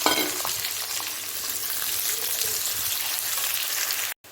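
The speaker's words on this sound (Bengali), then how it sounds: "এখন এর মধ্যে আমি পেঁয়াজটাকে ভেজে নেব" Onions fry in pungent mustard oil with nigella seeds: a steady, close, crackling sizzle with no talk that cuts off abruptly just before the end.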